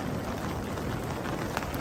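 Rain falls steadily on a tent during a camping trip, a dense, even patter close by with no voices.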